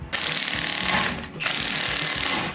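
A ratchet wrench loosening lug nuts on a wheel, two rapid bursts of loud, close clicking separated by a brief pause.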